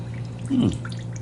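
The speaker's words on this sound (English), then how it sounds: "we're going to be using the water as well, so we pour that off here" Liquid from a can of whole kernel corn poured off in a kitchen, a brief soft trickle and splash up close over a steady low background hum.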